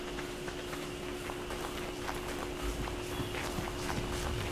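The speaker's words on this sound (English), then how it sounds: "Is that a horse? It's a unicorn!" Hooves of a unicorn creature in the modded survival game ARK clip-clop in a steady trotting rhythm against a dense game ambience.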